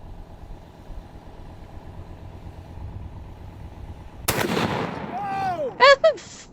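A 950 JDJ Fat Mac rifle fires a single, sudden, heavy blast after several seconds of low background noise. A rumbling tail follows, then sharp, whistling tonal sounds near the end.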